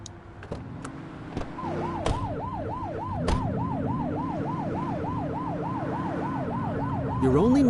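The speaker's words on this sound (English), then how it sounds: "You're only meant to use the siren in emergencies." A police car siren in The Precinct video game wails in a fast repeating rise-and-fall pattern over a steady engine hum, with a few sharp knocks early on and a louder burst near the end.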